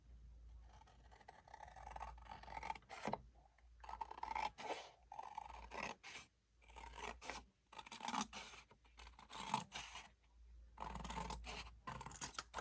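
Scissors cut a paper score out of a sheet for a disk-bound October junk journal, making close, crisp snips and rustling paper in irregular bursts with brief pauses, quiet and without speech.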